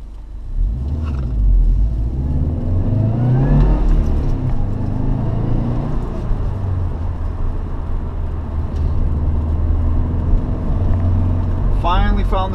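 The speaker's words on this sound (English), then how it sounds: "we'll be back into the Twisties to run through the gears" A Subaru Impreza WRX hatchback pulls hard through the gears on winding roads, its engine note rising and dropping with each shift under constant road rumble, heard from inside the car.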